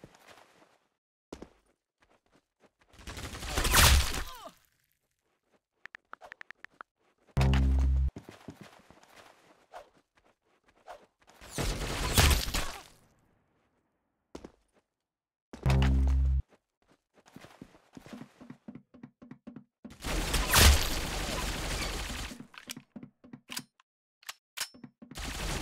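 Bursts of gunfire in a one-on-one mobile shooter game, several separate loud volleys spaced a few seconds apart, with quieter clicks and thuds in the gaps and no talking.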